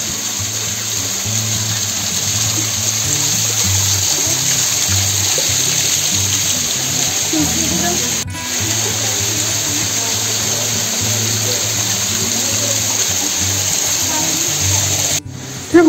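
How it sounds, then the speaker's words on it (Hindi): Water from a waterfall in a rock garden in Chandigarh, a steady, continuous broadband rush that holds through the whole stretch with low-pitched background noise, while people talk over it. "जो यहाँ पे वाटरफॉल है,"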